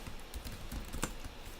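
Quick, irregular keystrokes clatter on a computer keyboard during a coding practice session, close and steady with a few sharper clicks and no voices.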